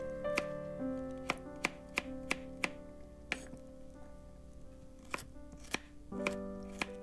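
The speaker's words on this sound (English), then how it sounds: "Wash, then cut into 1-inch chunks." A knife chops sharply and repeatedly through carrots, cutting them into chunks on a cutting board, in uneven bursts of quick strokes, close up with no talking.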